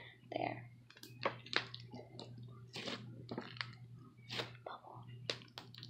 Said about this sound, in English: Like when you barely touch the bubbles, they give you like a amazing crunch